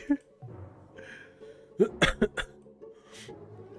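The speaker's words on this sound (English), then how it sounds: "makes you choke on your water and start a coughing fit" A character in the video game Path to Nowhere breaks into a coughing fit: a short cluster of sharp, harsh coughs in quick succession, close and fairly loud. A brief voiced sound comes before the coughs.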